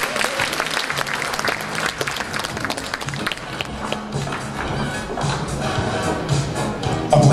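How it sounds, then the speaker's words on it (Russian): Loud, sustained applause from a concert-hall audience at an anniversary evening, welcoming a flamenco dance ensemble; dense clapping runs steadily for the whole stretch with no clear gaps. "Встречаем бурными аплодисментами"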